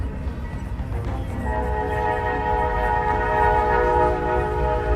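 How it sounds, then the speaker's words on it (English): A freight train in Luling, Texas sounds a loud, sustained multi-tone horn that swells and holds over heavy rumbling rail noise, as it bears down on a windmill truck at a crossing. "Train hits windmill truck in Luling,"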